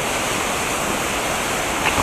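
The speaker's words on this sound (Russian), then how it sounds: "Приближаемся к водопаду под названием Чара." Steady broadband roar of the Chara waterfall, continuous and fairly loud with no pauses, like rushing water heard from close by, with no voices.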